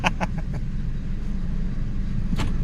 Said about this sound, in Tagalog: Kahit hindi mo na ito pindutin yung lock, automatic pag nag-preno ka, maglalak yan.